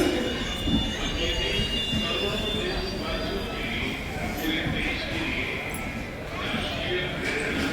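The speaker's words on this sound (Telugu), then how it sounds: "ఆగింది ట్రైన్" A train rolls slowly into a station with wheels squealing and clanking, its rumble easing off as it comes to a halt, with people talking in the background.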